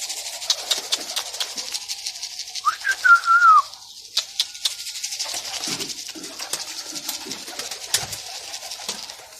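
Pet pigeons cooing, mixed with one clear rising-and-falling whistled call and scattered clicks and flutters close by, without speech.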